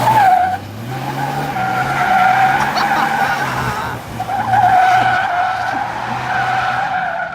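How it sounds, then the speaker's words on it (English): A 2500 turbo diesel pickup truck drifting, its tires squealing loudly in long wavering screeches with a rumbling engine beneath, the squeal easing and returning partway through. "Oh, he's roasting them tires."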